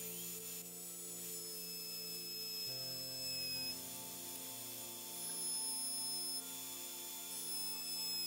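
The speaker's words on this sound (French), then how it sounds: "Sur cette défonceuse, j'ai placé une mèche avec une bille de guidage qui permet d'affleurer." A wood router fitted with a bearing-guided flush trim bit trims fir panels for a curved trunk, giving a steady, high-pitched motor whine that holds continuously with a slight shift in pitch partway through, close and unbroken.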